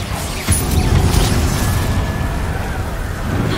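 A Bombarda blasting spell explodes in the Hogwarts Legacy video game, a single loud boom with a crunching crash that decays into a rumbling tail, with game music and effects underneath.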